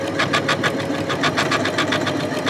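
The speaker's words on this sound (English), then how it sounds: "we're going to start sewing" A Janome sewing machine fitted with a ribbon/sequin foot stitches steadily and continuously, a close, loud, fast rhythmic whirring and tapping with no voices.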